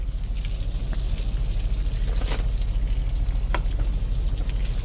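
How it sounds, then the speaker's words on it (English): Bacon sizzles and crackles in a hot pan, a dense continuous frying hiss with scattered pops, loud and close, with no voices. "The bacon's starting to get a little bit of color."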